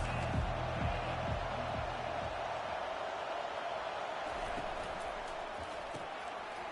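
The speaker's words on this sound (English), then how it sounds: "This crowd trying to make life miserable for this offense." Steady stadium crowd roar from College Football 25 during a Colorado at Miami game, a broad constant wash of noise with a few thumps early on and commentary-style talk over it.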